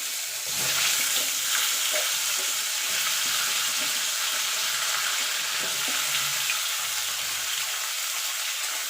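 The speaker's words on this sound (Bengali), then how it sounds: "আলু মূলো একসঙ্গে দিয়ে দেবো।" Radish and potato pieces frying in tempered oil, a constant close sizzle with occasional soft stirring knocks and scrapes from a spatula against the pan.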